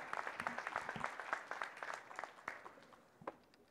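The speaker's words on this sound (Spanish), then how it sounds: "Más fuerte el aplauso, Boca del Río" Applause at a collective wedding ceremony in Boca del Río, a thin, fairly distant patter of clapping that swells briefly and then thins out, with a few louder claps standing out.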